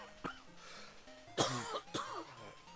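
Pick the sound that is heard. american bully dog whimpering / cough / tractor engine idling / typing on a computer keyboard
cough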